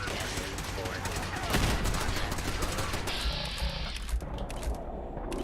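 Gunfire in the video game Fallout 4: dense, continuous bursts of rapid shots and impacts filling the clip with no break, loud and busy throughout.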